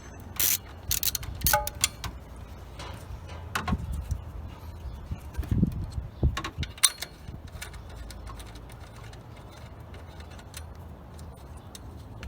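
A 10mm wrench works the alternator cable nuts on a 2013 Honda Civic: a scatter of sharp metallic clicks, ratcheting and clinks, busiest early on and then sparser, heard up close without speech.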